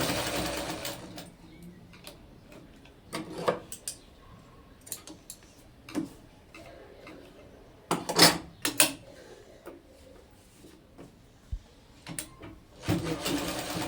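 Domestic sewing machine stitching a kurti, running in short and longer bursts of rapid mechanical ticking with pauses between runs, close by, no one talking.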